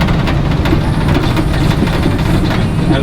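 A 1956 Chevy/GMC pickup engine idles along in third gear at low road speed, a steady loud rumbling drone with cab rattle throughout.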